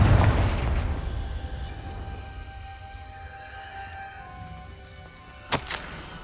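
A Confringo fire spell explodes in Hogwarts Legacy with a deep, booming blast that fades into a long rumbling tail, followed by a sharp crackling burst near the end.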